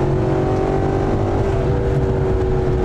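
A Maserati GranTurismo S 4.7 MC accelerates hard in sport mode with paddle shifts, its engine a loud, sustained rising drone heard from inside the cabin without any talk.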